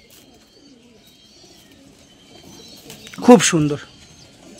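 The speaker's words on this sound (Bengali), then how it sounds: "আপনারা জাস্ট দেখুন, খুব সুন্দর পায়রাগুলি" Pigeons in a Kolkata loft give a short burst of cooing near the end, against a faint, quiet background, with a brief spoken comment nearby.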